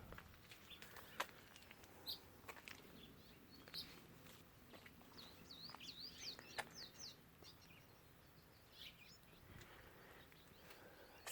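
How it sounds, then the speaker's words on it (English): Birds sing and chirp in a spring water-wise garden in Temecula, with scattered short tweets and trills, moderately distant and soft, over faint footsteps and a quiet outdoor background. "The birds are singing along with you."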